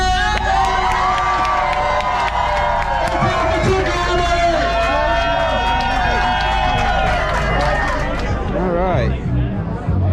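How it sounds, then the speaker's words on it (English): A large outdoor rally crowd roars with loud, continuous cheering, shouting and applause, with children's voices and babble mixed in throughout. "I think we have got to get it by crowd applause to Tucker!"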